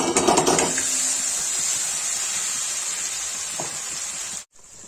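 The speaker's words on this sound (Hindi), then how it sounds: "इसमें जो प्याज, अदरक, लहसुन, गोल मिर्च, लौंग, दालचीनी का पेस्ट बना है डाल देंगे।" Onion, ginger, garlic, black pepper, clove and cinnamon paste hits hot oil with cumin, giving a steady loud sizzle and hiss that runs almost throughout before cutting off abruptly near the end.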